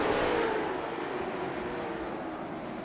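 Race cars get the green flag at Lanier National Speedway's short track in a racing video game, a dense, steady engine roar that stays loud and slowly eases off.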